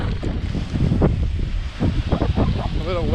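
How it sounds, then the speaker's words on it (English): Gusty tropical storm wind on Grand Cayman batters the microphone in loud, rumbling bursts, with some rustling and a brief voice-like sound near the end. "Very windy."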